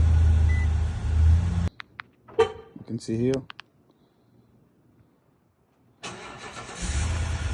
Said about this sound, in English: And of course starting the car.